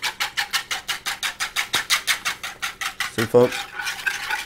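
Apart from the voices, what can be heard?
whisking a marinade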